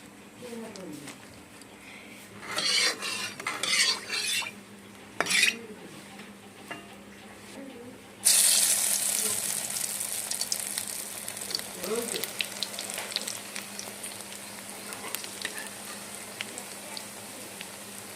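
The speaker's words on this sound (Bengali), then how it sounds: "এখন কড়াইতে দিয়ে আমি ভেজে নেব" Masoor dal fritters frying in a wok: a steady hiss starts partway through as batter drops into the hot oil, after intermittent mixing sounds and someone speaking.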